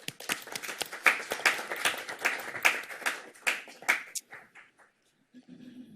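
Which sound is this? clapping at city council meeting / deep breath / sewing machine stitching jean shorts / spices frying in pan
clapping at city council meeting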